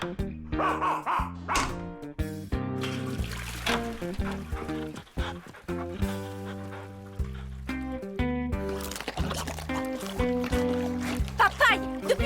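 A cartoon dog barks and yips in short, springy bursts woven through a busy, bright musical score, the barks fairly close and lively across the scene.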